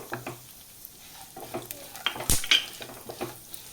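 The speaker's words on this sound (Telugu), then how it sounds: "చిటపట అంటున్నాయండి, చక్కగా వేగిపోయినాయి." Cashews, pumpkin seeds and watermelon seeds crackle and sizzle as they fry in ghee in a pan, with light stirring scrapes and a louder clink of the utensil partway through.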